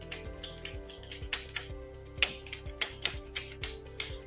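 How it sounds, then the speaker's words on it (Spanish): A ballpoint pen being fiddled with and clicked, a quick run of sharp, close clicks in an uneven rhythm, a dozen or so light taps against a faint hum. "estoy jugando con el bolígrafo y estoy haciendo ruido"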